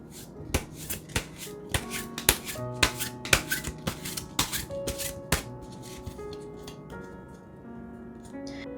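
Tarot cards being shuffled and drawn for a love reading, a run of crisp, close snaps and slaps of card stock in an uneven rhythm, set against a soft sustained musical backdrop.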